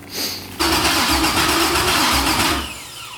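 An LS V8 swapped into a Mazda Miata fires up for the first time: a brief starter crank, then the engine catches with a loud, rough rumble and idles close by before settling down, with no talk over it.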